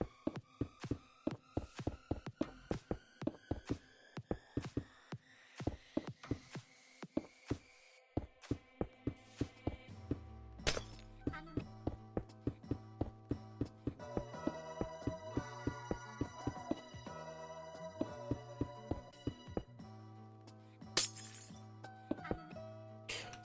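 Glass blocks placed one after another while building a large dome in Minecraft, giving a steady run of quick, crisp clinking clicks over soft background music, with no talking.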